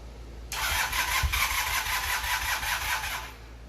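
A Honda CM450 motorcycle that sat ten years cranks on a jump pack, a steady whirring starter drone that runs about three seconds without catching, close and fairly loud.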